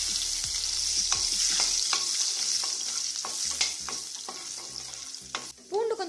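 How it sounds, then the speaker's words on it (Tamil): Garlic cloves frying in hot oil with mustard seeds and urad dal for a South Indian kara kulambu, a steady close sizzle with intermittent spoon stirs and scrapes against the pan, no voices. "கடுகு பொரிஞ்சதும் 6லேருந்து 8 பல் பூண்டு வந்து ஆட் பண்ணிக்கிறோம்."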